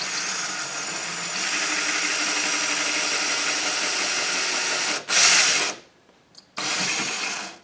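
A power drill runs slowly against a wall while mounting a tool holder, a loud steady whine that holds for several seconds, then briefly surges, cuts out and restarts for a final short burst.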